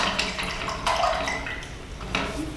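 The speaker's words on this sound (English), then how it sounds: "So I'm gonna rinse my brush off." A paintbrush is swished and rinsed in a water cup, giving a few close splashy bursts of water with brief pauses between them.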